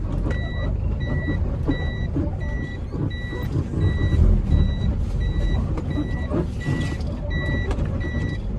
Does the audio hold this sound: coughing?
no